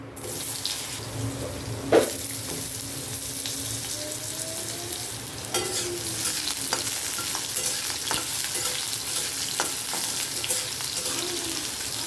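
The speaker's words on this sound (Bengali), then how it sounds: "কালো জিরে দিয়ে এখানে আমি কেটে রাখা আলুটা আগে দিয়ে দেব।" Cut potatoes fry in hot oil with nigella seeds in a Bengali kitchen, giving a steady hissing sizzle with a few clanks and scrapes from a utensil. No voices.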